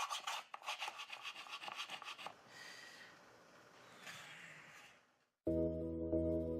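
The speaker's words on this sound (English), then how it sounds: "The tool he uses is a whetstone. He removes the brush marks and smooths the entire surface." A Kyoto lacquer artisan rubs a whetstone over a lacquered surface to smooth away brush marks, making quick, close, rhythmic rasping strokes that slow into softer, longer scrubbing before stopping and giving way to music.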